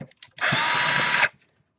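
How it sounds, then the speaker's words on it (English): A power screwdriver backs a screw out of an MP Mini Delta 3D printer in one close, loud whir of about a second, with faint handling clicks before and after. "I have to remove the 6 screws on the top or the bottom."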